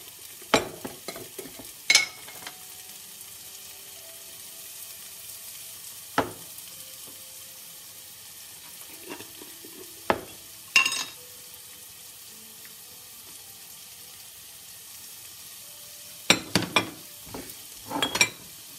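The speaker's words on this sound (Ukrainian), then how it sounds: "Перемішуємо. І чекаємо, щоб трошки протушилися наші гриби болгарським перцем." Mushrooms and bell peppers stewing in a pan give a quiet low simmer, broken by a few sharp clatters and scrapes of stirring at intervals.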